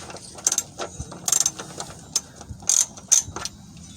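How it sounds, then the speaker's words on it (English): A ratchet fitted with a 15 mm socket turns to loosen a truck's oil drain plug. It gives bursts of quick, close clicking, with short runs of pawl ticks separated by brief pauses. "I've got my ratchet set on loosened, so I'm gonna go ahead and loosen the"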